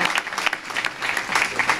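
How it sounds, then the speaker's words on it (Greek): Applause for a colleague at a press event, a brief burst of steady, dense clapping from a crowd, close and fairly loud. "θα παρακαλέσω ένα ζεστό χειροκρότημα για τη Μαρία"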